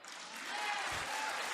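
Steady applause from a large audience at a State of the Union address, a continuous wash of clapping heard alone at a distance.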